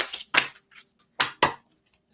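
Oracle cards are shuffled by hand in a few quick, dry papery bursts, close and fairly clear, with short quiet gaps between them.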